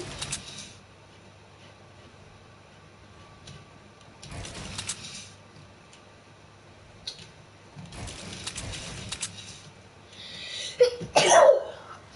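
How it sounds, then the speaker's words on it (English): A single sharp sneeze near the end, loud and close, following quiet stretches of faint clicking and shuffling. "That was a weird sneeze."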